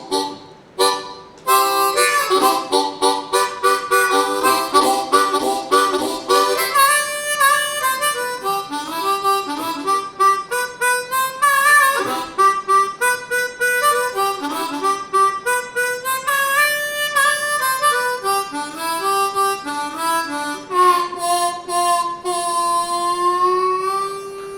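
A blues song plays as a recording, a steady run of rhythmic instrumental notes and melody lines that stays at an even loudness for about 24 seconds with no talking over it.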